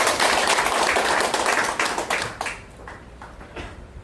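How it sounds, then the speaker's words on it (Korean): An audience claps at an association launch event in Korea, a dense burst of hands that thins out after about two seconds into a few scattered, fading claps. "박수 한번 쳐주세요."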